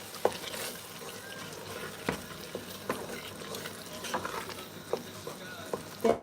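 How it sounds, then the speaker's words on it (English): Jollof rice ingredients stirred in a frying pot, a spoon scraping and clacking against the pot in irregular knocks over a steady background sizzle, close and fairly quiet, with no talk. "So I'm just going to stir all of that to combine."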